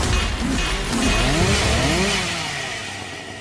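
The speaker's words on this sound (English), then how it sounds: "Sorry, I'm talking over the sound of chainsaws." Chainsaws in a sci-fi colony-sim video game drone and rev under other game noise, with wavering pitch sweeps, loud at first and then fading toward the end.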